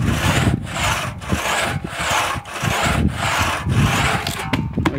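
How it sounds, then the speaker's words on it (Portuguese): An old two-man crosscut saw, unsharpened, cuts through a wooden stump in steady back-and-forth rasping strokes, about two per second, loud and close with no talking. "Já está quase terminando de serrar o toco aí, ó."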